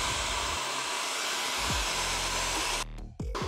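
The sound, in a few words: blow dryer on low heat and high pressure drying hair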